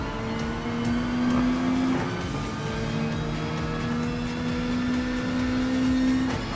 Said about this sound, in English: got my Impreza UDRS rally car to be ready to go. And let's take it for one good demonstration to begin with.